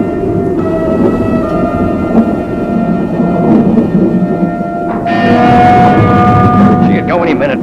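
Rumbling thunder rolls through a stormy scene in a puppet television adventure where aircraft fuel lies about, a continuous loud low roar with hiss rising toward the end, over which voices speak.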